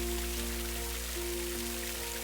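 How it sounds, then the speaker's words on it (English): Heavy, persistent rain pours down as a steady, dense hiss with a low hum underneath, continuous and even throughout with no voices. "Pretty soon it starts to rain, and the rain is heavy."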